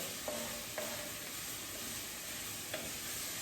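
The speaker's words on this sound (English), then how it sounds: "I'm sure you can hear this sizzling already" Faint, steady sizzling of food frying in a pan for lentil soup with spinach, with a few light clinks of a utensil stirring.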